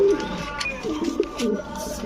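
Cooing from a large Lotan pigeon pair offered at a pigeon sale, a soft low murmuring coo repeated in short bursts close by, with faint background voices and bustle.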